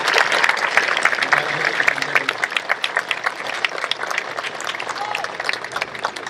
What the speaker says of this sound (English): Let's have another round of applause for all of our award recipients